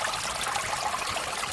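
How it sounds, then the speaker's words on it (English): A garden waterfall spills into a koi pond lined with gravel ranging from pea gravel to small rocks, giving a steady, close, even rush of splashing water with no voices. "we have our second waterfall that goes into the pond itself"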